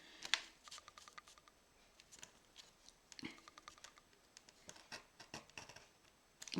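A cutter blade, scalpel-like, slicing through paper while making a quick pouch: a series of faint, close, crisp scratchy strokes and light taps in an uneven rhythm, with no voices.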